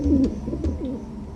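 Pigeons cooing in a short, close sound effect for a children's audiobook, with two soft, rounded coo phrases in a low rolling rhythm and faint chirpy overtones, heard alone.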